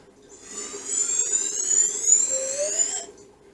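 A voice imitates an eerie alien sound, a wavering high-pitched tone that rises and falls for a few seconds.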